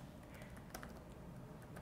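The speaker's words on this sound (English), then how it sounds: "I'll again type my full name" Someone types a name on a computer keyboard, producing light, irregular key clicks close to the mic over a faint background hum, with a sharper clack near the middle.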